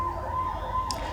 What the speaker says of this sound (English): wait for the sirens to finish, but that's all right